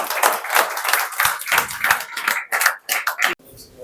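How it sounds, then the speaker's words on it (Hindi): An audience at a leadership development program claps loudly, with dense overlapping applause and some voices mixed in. The clapping cuts off abruptly near the end, leaving a quieter room. "एक बार सबके लिए जोरदार तालियां।"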